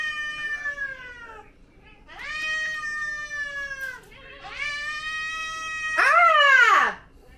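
A cat meows several times, drawn-out and whiny, with a final louder, more urgent cry; close and fairly clear.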